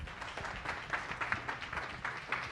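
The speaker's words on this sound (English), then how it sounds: "let's give her one more round of applause" Audience applause at a science talk, a dense, steady patter of clapping hands filling the room at moderate loudness for a couple of seconds.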